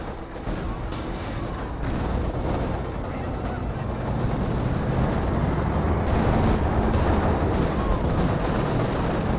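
Company of Heroes 2 battle with artillery and gunfire: dense, continuous rumbling barrages and rattling shots that build slightly in loudness, with no pauses.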